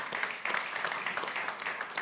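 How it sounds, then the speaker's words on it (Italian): Audience at an Italian book presentation claps for the author, a moderate burst of scattered hand claps with uneven peaks, fairly soft and slightly distant, continuing through the short stretch. "un applauso e grazie"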